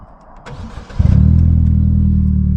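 A Vauxhall Corsa's engine cranks briefly and catches at about one second, then settles into a loud, steady idle heard from close by inside the car.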